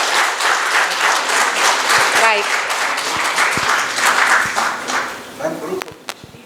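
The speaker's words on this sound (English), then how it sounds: "Can I request you to give a big round of applause for them?" Audience at the iCON 2022 valedictory ceremony gives a big round of applause for the back-end team, dense clapping that fades toward the end, with a few spoken words over it.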